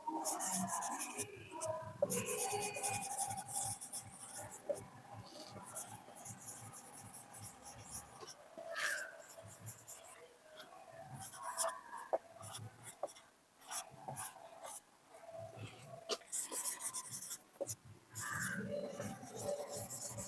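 Handwriting a maths question out on paper, steady pen scratching and rubbing strokes running almost continuously, close and fairly quiet, with brief pauses between words and no talking.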